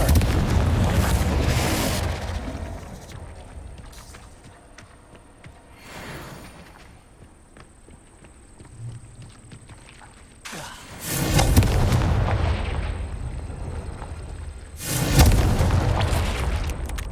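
Blasting spell explosions in Hogwarts Legacy: two or three loud, booming bursts with a rumbling tail, separated by quieter stretches of ambient game sound.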